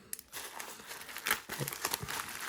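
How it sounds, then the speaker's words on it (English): Sellotape being ripped open on a bubble-wrap padded card mailer, a run of close crinkling and tearing rustles that grow busier and louder toward the end, with no talking. "I'm just gonna have to rip this open, the sellotape"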